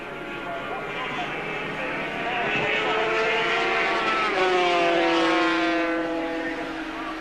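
A red and black Suzuki racing motorcycle screams past at Silverstone in 1979, its engine note rising and holding loud as it nears, then a second machine follows, with commentary running over it.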